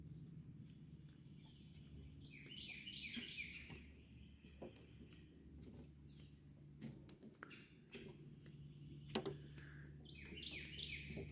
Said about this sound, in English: Hear all that chirping?